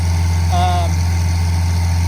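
A river pump engine with its clutch disengaged runs at a steady, loud low-pitched drone, with a brief voice over it.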